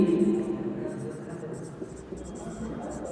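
Marker or chalk scratches out a kinetic energy definition on a board during a Class 9 science lesson on work and energy, a steady soft scraping that runs close and continuous for a few seconds.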